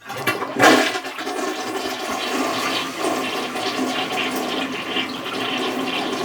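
A newly installed Costco Water Ridge toilet flushes with a loud opening whoosh, then settles into a steady swirling rush of water draining and refilling, close by and heard alone.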